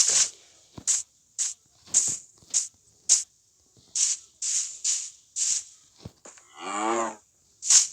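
A string of short, blocky synthetic Minecraft cow moos repeats in quick succession, with one longer bellowing call near the end.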